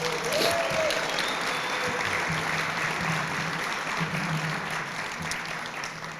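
Audience applause at a guide dog graduation, steady and full, fading slightly toward the end, with a faint voice underneath.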